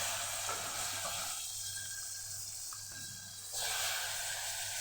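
Potatoes tipped into hot oil tempered with coriander-cumin powder for a Kathiyawadi spinach and potato curry, giving a steady close frying sizzle with a brief dip mid-way as they are stirred, no voices.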